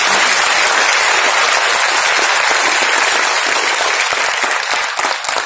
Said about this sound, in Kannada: ಪುನೀತ್ ರಾಜ್ಕುಮಾರ್ ಅವ್ರಿಗೆ ಒಂದು ಜೋರ ಚಪ್ಪಾಳೆ ಬರ್ಬೋದು.